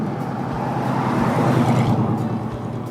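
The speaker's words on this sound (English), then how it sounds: "gravel ripping, big engine roaring" Big truck rolling past on gravel, a loud, continuous rumble of engine and crunching road noise that swells slightly in the middle as it passes close by, with no speech.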